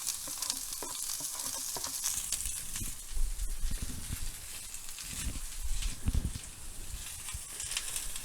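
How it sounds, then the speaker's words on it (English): Onions sizzling in oil in a preheated skillet on a Kamado Joe grill with a soapstone surface, a steady bright crackle and hiss with occasional soft stirring thumps, close and continuous. "So I'm going to go ahead and put a little oil in here. And throw these onions in."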